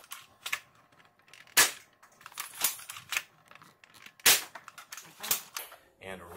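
Nerf Longshot fitted with a Jet Blaster kit shooting half-length foam darts: several sharp, loud pops at irregular spacing, with softer mechanical clicks and rattles between shots and a brief clatter at the end.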